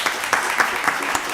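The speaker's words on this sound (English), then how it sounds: "that deserves a round of applause." A round of applause at a county board of commissioners meeting, the audience clapping in a steady patter of many hands, moderately close.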